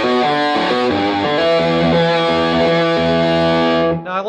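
Electric guitar on the back pickup through a gain channel, with sharp treble bite, playing a loud, distorted run of changing notes and held chords that stop abruptly near the end.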